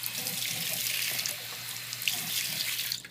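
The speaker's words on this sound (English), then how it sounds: "You're just going to fill them with water." Tap water running steadily into bottles at a sink, a loud, close, continuous rushing stream with slight gurgling variations and no voices.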